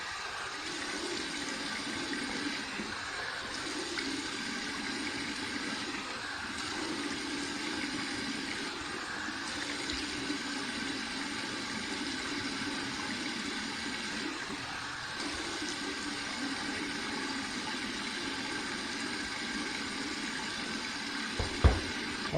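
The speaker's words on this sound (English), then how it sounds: "I'm going to finish the rinse with some cold water." Cold water runs steadily from a tap to rinse a freshly shaved head, a continuous close hiss and splash that goes on for about twenty seconds without talk, ending with a few sharp knocks.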